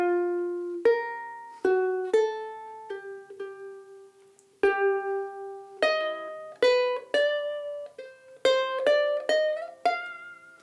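Plucked ukulele notes play the opening eight measures of a melody, clean and close, with a lilting waltz rhythm and ringing single notes, no voices.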